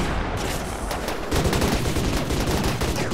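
Gunfire from a RimWorld colony battle, a dense continuous volley of overlapping shots that grows louder and heavier partway through, with no talking.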